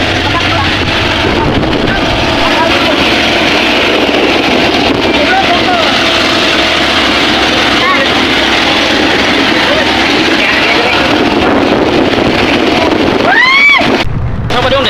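Steady drone of a motorboat engine with water and wind rushing, loud and continuous throughout, with a voice talking over it.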